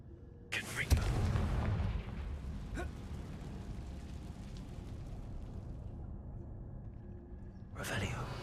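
Confringo blasting spell in Hogwarts Legacy going off as a sharp burst followed by a long rumbling boom that slowly fades, with a second blast swelling at the end; a voice speaks over it.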